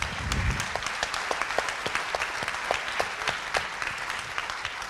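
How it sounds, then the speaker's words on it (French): Audience applause after a talk at an experience-sharing session: dense, steady clapping from many hands filling the room, with some louder individual claps standing out near the front. No voices are heard. "on peut les applaudir"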